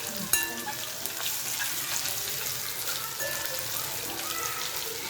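Ginger garlic paste fries in a pan for paneer masala, giving a steady, close sizzle and crackle with scattered pops, running continuously at a moderate level throughout.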